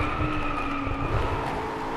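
Maserati GranTurismo in a VR driving game, a loud continuous engine roar with tire squeal that holds steady for a couple of seconds, alone without talk.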